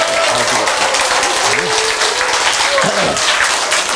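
Loud, dense audience applause at a lecture, steady clapping from many people with a voice briefly speaking over it.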